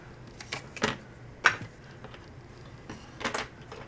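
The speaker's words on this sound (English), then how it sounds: "I'm going to go ahead and cut myself off a little piece" Scissors snipping a small piece of peppermint lawn trimmings for a holiday card, giving a few quiet, separate crisp snips with brief pauses between them.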